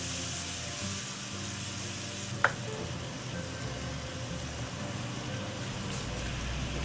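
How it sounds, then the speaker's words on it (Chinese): Tomato pieces stir-fried over medium heat in oil with scallion and ginger, giving a steady, close sizzle throughout with one brief sharp clink partway, no voices. "放入番茄丁，用中火翻炒至番茄出汁"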